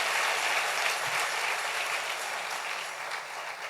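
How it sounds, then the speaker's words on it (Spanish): A church congregation claps for the blessed King, steady, dense applause from many hands that fills the space, holding level and easing only slightly toward the end. "Dale un aplauso al Rey bendito"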